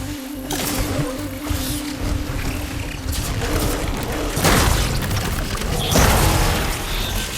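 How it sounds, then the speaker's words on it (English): Glowing crystals detonate in Horizon Forbidden West, sounding as two heavy booming blasts with crackling debris over a rumbling game soundscape, loud and close. "See those glowing crystals? Takes one hit to detonate."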